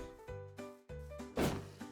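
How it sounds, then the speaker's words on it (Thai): In the Minecraft Bedrock SpellCaster add-on, a wind blast spell goes off amid a string of hollow thumps, ending in a sudden loud, breathy whoosh with a final thud. "นี่ฮะ ระเบิดลม"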